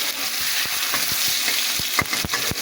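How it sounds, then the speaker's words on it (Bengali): Bitter gourd fries in hot oil with mustard seeds, a constant dense sizzle close by, dotted with occasional stirring clicks and pops. "এবার করলাগুলো ভেজে দেব।"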